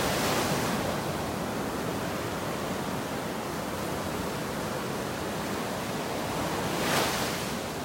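Surf rolls onto a beach in North Naples, Florida, a steady broadband wash of waves with a brief swell of louder breaking near the end, close and continuous with no talking.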